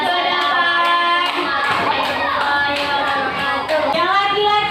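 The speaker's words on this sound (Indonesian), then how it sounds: "Beri tepuk tangan untuk Ufa karena udah berani maju ke depan." A burst of clapping rises from a classroom of children amid their chatter and singing voices, lively and close.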